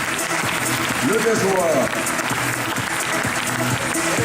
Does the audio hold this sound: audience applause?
yes